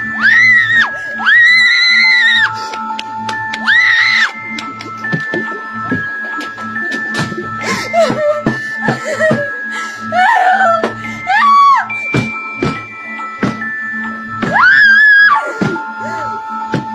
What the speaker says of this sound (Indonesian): dikejar sama Jeff the Killer dan menjerit histeris ketakutan